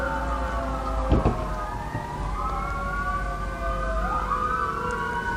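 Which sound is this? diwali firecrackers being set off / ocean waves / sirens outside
sirens outside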